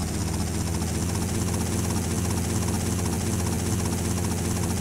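A steady, droning aircraft engine in GTA: Vice City Stories, with a heavy low rumble and vibration holding constant and loud throughout, with no talking.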